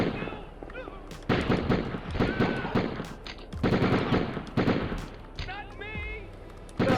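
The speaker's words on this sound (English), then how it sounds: "There's firing in the terminal" Gunfire in the Die Hard Trilogy: Die Harder video game crackles in rapid bursts through a busy terminal scene, with loud volleys starting and stopping repeatedly among other game effects.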